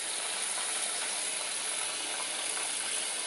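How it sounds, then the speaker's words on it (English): Tap water pouring steadily into a pot of rice being prepared for fried rice, a continuous bright hissing rush heard close and unbroken throughout, with no talking. "So okay, add water."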